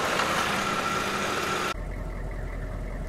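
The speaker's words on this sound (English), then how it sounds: "I hear a car coming." A steady, low mechanical rumble of a car engine running at idle, constant and fairly close, with a brief dip partway through.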